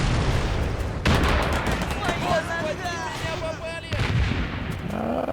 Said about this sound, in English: Sniping out of a house here.